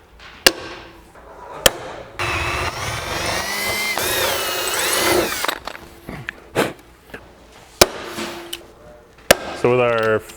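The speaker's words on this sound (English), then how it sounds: "We'll get a couple of those out and rivet the first wing strut in place." A rivet gun sets 3/16 rivets through a Fox Body hatch wing strut, giving a few sharp isolated pops between stretches of metallic scraping and handling noise, close up.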